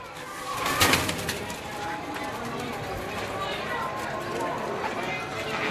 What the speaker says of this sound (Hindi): ये बड़े कबूतर हैं हमारे पास भाई, सारे गोल्डन टैडी